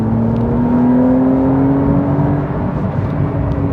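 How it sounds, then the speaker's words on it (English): A Porsche 911 engine pulling hard on twisty roads, heard from inside the car as a loud, continuous drone whose pitch climbs steadily, with no talking over it. "just hearing to this engine sound"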